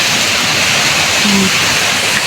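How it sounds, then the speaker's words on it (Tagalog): Heavy typhoon rain pours down with water rushing and splashing in a dense, steady roar that stays loud and close for the whole stretch. "Lakas po ng grabe, lakas ng bagyo."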